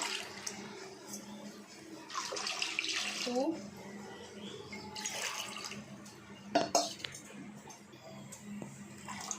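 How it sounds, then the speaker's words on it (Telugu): Three glasses of water are poured into a pan for a fish tamarind stew, giving a soft splashing and gurgling pour in separate bursts at a faint level, with the clink of a vessel near the end. "3 గ్లాసెస్ ఆఫ్ వాటర్ పోసుకుంటున్నాను అండి."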